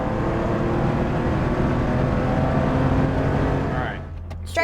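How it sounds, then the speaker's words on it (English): A 1984 Porsche 911 Safari accelerates up through its gears, a loud close engine drone from inside the car that holds steady, then drops away briefly at a shift near the end, with a voice faintly present. "Up the gears. 2nd gear. To 3rd gear."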